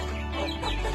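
Javanese ducklings about twenty days old cheep and chatter as a group over a steady low hum, fairly faint and continuous.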